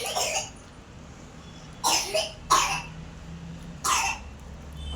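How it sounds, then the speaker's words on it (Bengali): A child coughs with a mouthful of puri, sharp bursts in short clusters with pauses between, close and fairly loud over a low indoor hum. "এই গালে পুরি দিয়ে কাশছে"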